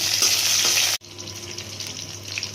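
Green chilies dropped into hot oil tempered with fenugreek and kalonji seeds for a matar dal with drumsticks: a loud, dense, close sizzle that cuts off sharply, then a quieter, steady frying hiss continues.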